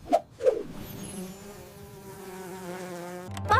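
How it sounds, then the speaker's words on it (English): A bee buzzes in a steady droning hum with clear tonal overtones, lasting a few seconds after two short soft knocks, fairly faint and close with no talking over it. "Bee."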